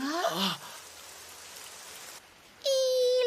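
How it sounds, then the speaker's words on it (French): Rain falling in an animated series scene, a steady soft hiss of rain between louder tonal sounds and a squeaky voice at the start and end. "il pleut, il pleut"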